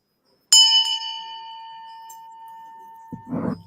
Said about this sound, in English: And then I got this bell, but this has a different kind of sound.